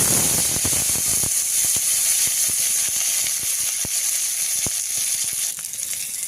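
Dried red chilies and bay leaves tempering in hot oil for a Bengali rohu fish curry, giving a loud, close, steady sizzle with scattered sharp pops and crackles throughout.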